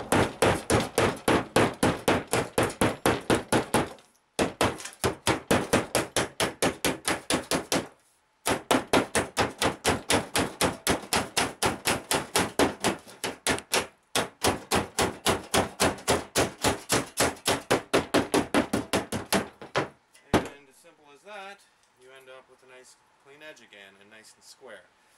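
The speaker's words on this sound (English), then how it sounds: "just going around and hammering out all the parts that need to be hurt, you know, hammered out" Repeated hammer blows reflattening the sheet metal of a garden tractor dump trailer on a flat surface, a rapid steady run of loud close strikes in several bursts with brief pauses, ending in quieter clatter.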